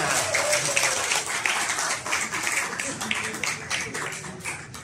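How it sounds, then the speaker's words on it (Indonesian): Applause from the audience at a digital pesantren training event in eastern Indonesia: dense, steady hand clapping that fills the whole span at moderate level with no break. "Tepuk tangan buat kita semua."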